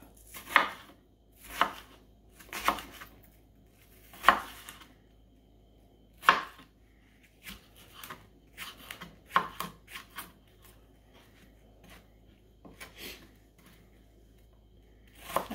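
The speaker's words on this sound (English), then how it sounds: "Give the apples a rough chop." A knife rough-chops apples on a cutting board in a series of sharp, close knocks, some isolated and some in quick bursts, separated by short pauses, with no talk.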